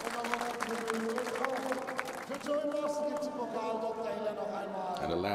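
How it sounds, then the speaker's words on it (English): Crowd cheering and applause ring out at a motor-racing podium ceremony at the Nürburgring, a steady wash of clapping under an announcer's continuous commentary, with a brief shift near the end. "And a loud cheer for sure for the Van Amersfoort driver, Joey Mawson."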